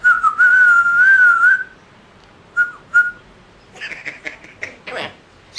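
A parrot named Ruby whistles a long warbling tune up close, followed by a few short whistles and chattering squawks.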